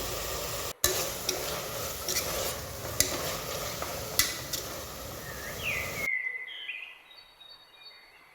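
Tomatoes and coriander leaves for Kerala-style Malabar chicken dum biryani sauté in a pan, with a constant sizzle and sharp spoon scrapes and clinks up close. After about six seconds it drops to near silence with faint, high whistling chirps.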